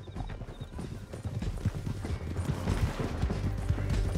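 Horse hooves gallop in Red Dead Redemption 2 during a canyon ride, a steady rapid clip-clop over low rumbling ground noise, building slightly louder toward the end with faint scattered gunfire-like cracks.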